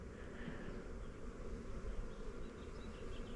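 Honeybees buzz softly and continuously around an open hive during a varroa mite check, a faint, steady drone with no voices.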